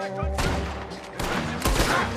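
Gunfire erupts in a Western shootout in Red Dead Redemption 2, with loud, close shots and booming bursts over a continuous game soundscape, one heavier blast near the end.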